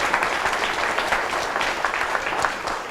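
A crowd applauds steadily, dense clapping filling the room at an even loudness throughout, with no voices standing out.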